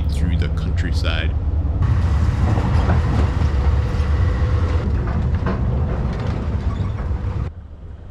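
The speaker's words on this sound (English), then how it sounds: "We'll head back to our compartment as we speed through the countryside." The Amtrak Cardinal rolls at speed through the New Jersey countryside, heard from inside as a loud, steady rumble and rattle of the rail car with faint rhythmic wheel clatter.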